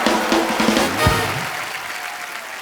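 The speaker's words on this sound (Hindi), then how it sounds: "जोरदार तालियों से अनुष्का का स्वागत।" A studio audience applauds steadily on a Hindi television comedy show, the clapping loud and dense at first and then easing slightly toward the end.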